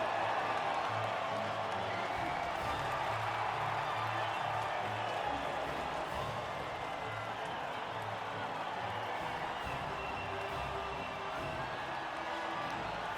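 A crowd cheers and applauds at the podium of a French Grand Prix race in the F1 2020 game, a steady, distant wash of cheering and scattered clapping, faint and unbroken throughout.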